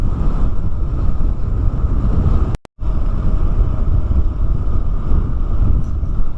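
Loud, steady wind roaring into the microphone on a coastal road near Farol de Santa Marta, broadband buffeting that runs throughout with one brief dropout near the middle.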